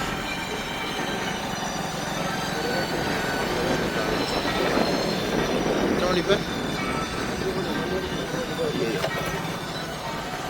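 A train rumbles steadily past at close range at a railway crossing, its wheels squealing and rattling along the rails throughout.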